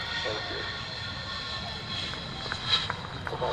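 Military aircraft landing at RAF Mildenhall, a steady broad engine roar held throughout at moderate distance, with a brief swell near the end and faint voices in the background.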